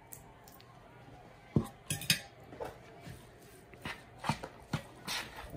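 Room-temperature butter being mixed into ingredients in a bowl; a run of close clinks and scrapes of a utensil against the bowl over a quiet background.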